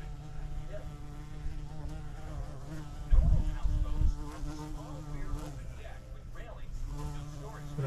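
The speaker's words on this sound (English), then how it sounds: "So all these bees are starting to come back." Bees buzz steadily around a bluebird nest box, a dense droning hum with a louder pass midway, while someone speaks quietly underneath.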